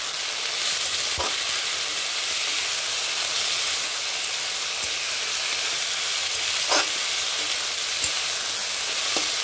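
Chopped figs with turmeric and salt frying in a pan give a constant loud sizzling hiss, steady and close, with a few faint scrapes and taps of a spatula stirring.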